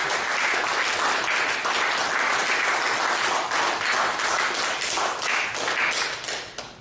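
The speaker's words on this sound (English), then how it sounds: "So a great round of applause for this." Audience applause at a Toastmasters club meeting, a dense steady wash of many hands clapping close by for nearly seven seconds before thinning out at the end.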